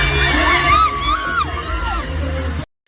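Concert crowd at a show shouting, screaming and cheering loudly and close, with high excited whoops rising over a dense roar for most of the clip before it cuts off abruptly.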